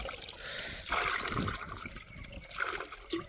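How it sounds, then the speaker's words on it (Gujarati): Water pours into a can, a close, continuous splashing trickle with rising and falling surges. "ચાલો હવે હે ને જરાક પાણી ભરી લઈએ"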